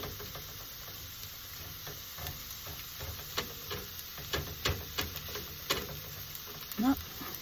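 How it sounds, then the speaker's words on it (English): Onions sauté lightly in a hot frying pan, a soft steady sizzle with intermittent scrapes and taps of stirring, quiet and close, with brief voice sounds near the end. "adding the onions and just lightly sauteing those"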